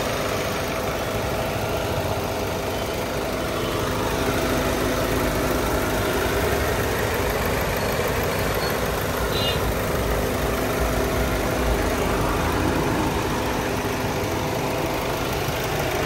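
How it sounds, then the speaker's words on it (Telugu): A 2018/19 Hyundai Verna SX(O) diesel idles close by with the bonnet open, a steady, even engine hum and rattle that holds unchanged throughout with no talk over it. "ఇంజన్ కూడా చూపిస్తాను."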